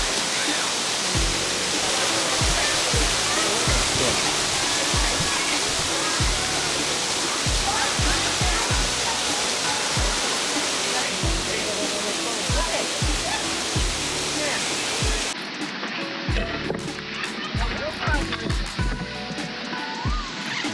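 A waterfall on a hiking trail near Gatlinburg gives a loud, steady broadband roar throughout, thinning slightly near the end.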